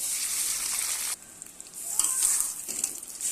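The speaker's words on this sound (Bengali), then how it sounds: "তেলটা গরম হয়ে গেছে। এখন মাছের ডিম দিয়ে দেব।" Fish roe fries in hot oil in a wok, a loud close sizzle that drops off sharply after about a second, then swells back with crackling spurts, with no talking.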